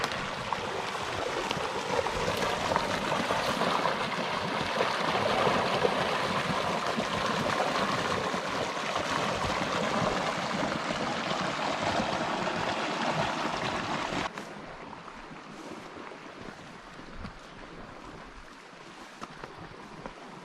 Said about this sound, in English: It's like a little rapids over here.